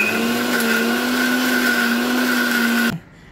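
A kitchen blender grinding onion, coconut, garlic and ginger into a fine paste, a loud steady motor whine that runs for about three seconds, then cuts off abruptly.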